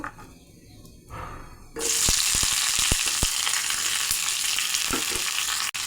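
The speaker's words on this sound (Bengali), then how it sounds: "তেলটা গরম হয়ে গেছে, এখন সব কটা মশলা আমি দিয়ে দেব।" Spices dropped into hot mustard oil burst into a loud, steady sizzle that fills the pan, with scattered pops and a few scraping clicks over the frying hiss, no talking.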